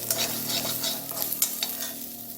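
Coconut, cinnamon and poppy seeds dry roasting in a pan, with a continuous close sizzle and crackle under repeated scraping stirs.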